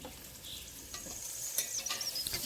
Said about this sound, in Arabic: الآن حضيف اللحم